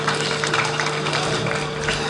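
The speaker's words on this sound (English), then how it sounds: "Another big round of applause for the Director General of MSG," Ceremony audience at the Melanesian Arts and Cultural Festival closing giving a round of applause for the MSG Director General, dense continuous clapping loud and close.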